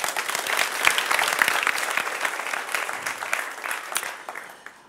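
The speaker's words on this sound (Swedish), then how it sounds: "Här får du en applåd till." Steady applause from a live audience at a Science Slam research-presentation event, dense clapping close and loud throughout, thinning and fading away at the very end.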